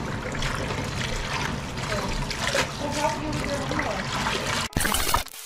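Tap water runs steadily over vegetables being washed in a home kitchen, a continuous close splashing rush that cuts off briefly near the end before a louder burst of flow.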